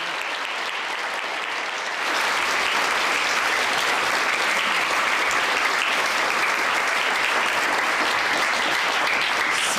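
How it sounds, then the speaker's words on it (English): Audience applause for performers at the ESU Performing Shakespeare Grand Final 2024, a large crowd clapping steadily and loudly from about two seconds in after a quieter start. "Let's give them a huge round of applause today."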